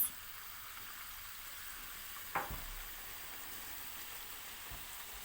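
Flour roasting in melted butter for un helvası hisses with a steady, soft sizzle through the whole stretch, broken by one brief sharper clink midway, with no talking.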